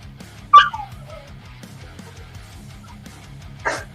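A dog whimpers for attention indoors, giving a sharp high whine followed by a softer falling whimper, then another brief whine a few seconds later, all over a low rhythmic background hum.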